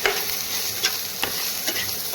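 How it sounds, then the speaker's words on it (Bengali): Pointed gourd with onion fries in a pan while a spatula stirs and scrapes it in quick repeated strokes over a close, steady sizzle. "একটু নাড়াচাড়া করবো"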